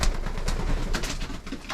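Racing pigeons in a loft coo softly in a low, rumbling chorus, several birds overlapping continuously at close range with no voices.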